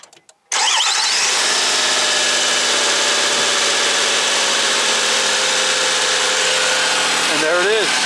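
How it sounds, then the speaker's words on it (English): A 2008 Nissan Maxima 3.5 engine starts after a water pump replacement, then settles into a steady, loud idle with a constant mechanical hum; a voice briefly speaks near the end. "I hope you guys can hear me over the engine, the sound of the engine"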